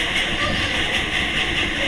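Train running in a train-driving video game, a continuous synthetic rumble with a bright hissing wash on top, steady and fairly loud from start to finish.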